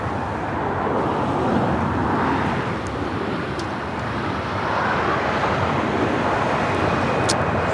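An ABX Air cargo jet takes off from the south side of Los Angeles International Airport, a loud, sustained broadband engine roar holding steady throughout at a moderate distance.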